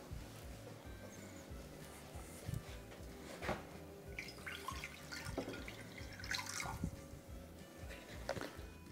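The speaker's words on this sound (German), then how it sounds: "da gebe ich jetzt einen halben Liter Wasser hinein" Half a liter of water poured into an ovenproof baking dish in a home kitchen, soft splashing and trickling with drips and small clinks, fairly quiet and close, no talk.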